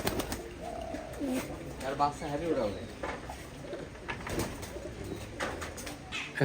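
Soft, low pigeon coos repeat amid a busy background at a Giribaj pigeon farm, with someone talking over them throughout.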